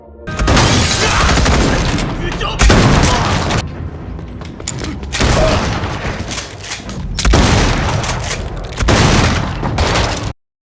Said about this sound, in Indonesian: Daryl muncul dan melepaskan tembakan ke pasukan Jeanette